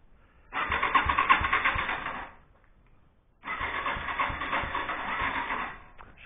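Yamaha SR 125 motorcycle being started, two separate long cranking attempts of a few seconds each with a brief pause between, loud and close.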